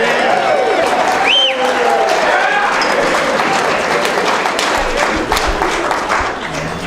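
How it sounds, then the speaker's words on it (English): Wedding reception guests clap after toasts for a couple, a busy room of applause mixed with cheers, chatter and a few whoops and thumps, steady throughout. "Give a round of applause."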